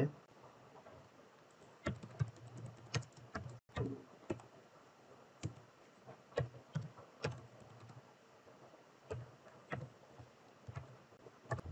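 Code typed on a computer keyboard while writing a Laravel PDF export script, with irregular clusters of quiet clicking keystrokes and short pauses in a quiet room.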